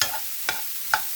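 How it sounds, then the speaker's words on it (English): Celery, onion and garlic being stir fried in a pot, a faint steady sizzle broken by two brief stirring scrapes. "we're going to finish stir frying our celery and onion and garlic"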